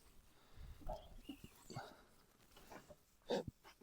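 Dogs at a dog trainer's place on a Lithuanian farm trip, giving a few short yips and whimpers scattered over a quiet stretch, with one louder burst near the end.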